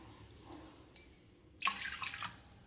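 Water is poured into a cooking pot, a short trickle and then a brighter splashing stream for about a second, close and fairly quiet, with no voices.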